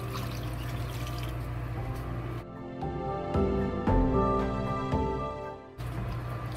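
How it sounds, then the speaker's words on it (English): Cold tap water runs steadily into a pot, a continuous gushing pour with a brief change in tone midway, then flowing on. "So we totally add 4 cups of cold tap water."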